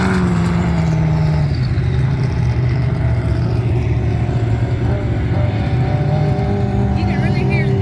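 Turbocharged dune vehicle engines at the Imperial Sand Dunes in Glamis, California, droning loudly and steadily throughout, with a revving pass-by tone shifting partway through and people talking over it.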